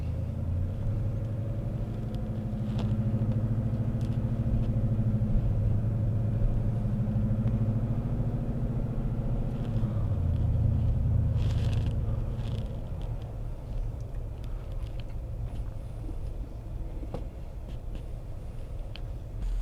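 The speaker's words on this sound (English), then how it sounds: "Let's go ahead for a drive and see how this turns out." A pickup truck fitted with Rough Country light bars drives along a dirt road, its engine giving a low, steady rumble that drifts in pitch, then eases and thins out in the latter half.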